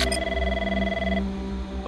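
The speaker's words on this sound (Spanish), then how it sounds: "¿Suena el teléfono?" A telephone rings inside the Five Nights at Freddy's horror game, a steady tonal ring close and clear for about a second before it cuts off into quieter room tone.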